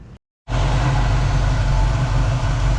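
A 1967 Camaro's engine catches after a brief silence and settles into a loud, steady, deep idle rumble, close by and alone.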